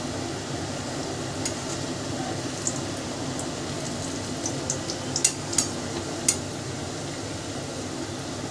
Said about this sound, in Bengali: দেখো লুচিগুলো ভালোই আওয়াজ হচ্ছে